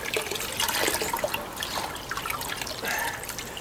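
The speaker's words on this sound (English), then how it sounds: "what I'm going to do now is just drain all the excess pickling out of this coyote right now" Excess pickling liquid drains out of a coyote hide during tanning, a steady watery trickle and splashing running continuously at close range.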